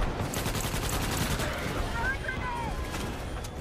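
Sustained automatic gunfire in Starship Troopers: Extermination, a dense, steady stream of shots rattling on at moderate loudness, with faint high-pitched chirps briefly mixed in and a voice talking over it.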